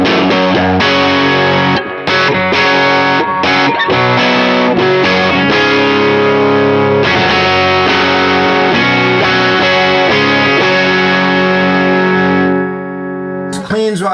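Electric guitar played through a Skylark amp in its high-gain mode, giving a thick tweed-style overdrive: loud, sustained distorted chords and riffs with brief pauses, ringing alone without talk until a sudden cut at the end.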